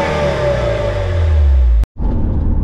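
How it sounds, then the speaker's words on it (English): Porsche 968 four-cylinder engine revs loudly and close with a deep, droning note, cuts off abruptly for a moment, then resumes. "It also doesn't sound like a 4-cylinder engine."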